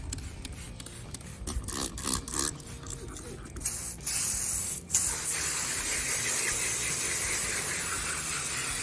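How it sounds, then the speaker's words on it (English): Power clean cleaner sprayed onto a car air filter: a run of short hissing spray bursts up close, then a steady continuous hiss of liquid spraying that carries to the end. "spray this power clean onto the filter and let it soak for about 10 minutes"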